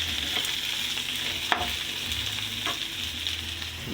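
Squid balls and chayote dropped into a hot frying pan for pancit, a loud continuous close sizzle with a sharp impact and brief bursts of crackling, no talk.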